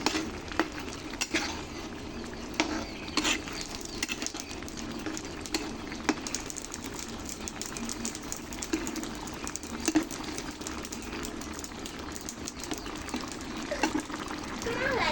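Chewa fish are added one by one to a pan cooking with karamcha. Soft sizzling comes with scattered clinks and scrapes of utensils against the pan, fairly quiet, with a voice talking over it.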